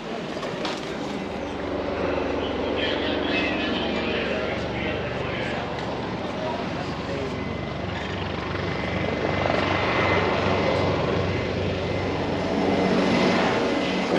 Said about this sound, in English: The helicopter arrived on scene.